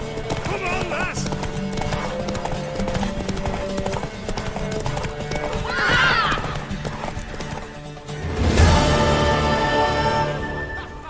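Hooves clip-clop in a quick galloping rhythm, and a horse whinnies loudly near the end, over game music and brief voices in The Witcher 3: Wild Hunt.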